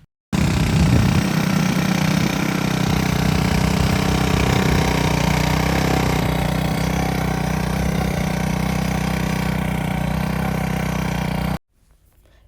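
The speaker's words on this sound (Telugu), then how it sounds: "ఈ ట్రాక్టర్ సౌండ్ అది కూడా బాగానే వస్తుంది" A tractor on a farm in the United States runs steadily at close range, its loud, continuous engine rumble holding a constant pitch for about eleven seconds before cutting off abruptly.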